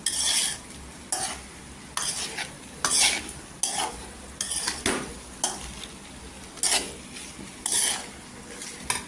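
Potato curry stirred and sautéed in hot oil, a spoon scraping the pan in repeated bursts over a steady close sizzle, with no talking.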